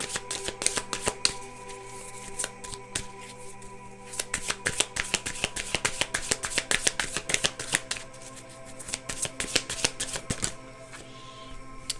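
Conversation cards are shuffled by hand in quick, crisp riffling bursts and clicking flutters, close up and fairly loud, with a brief pause before the shuffling resumes and continues steadily.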